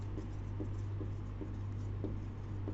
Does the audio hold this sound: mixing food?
no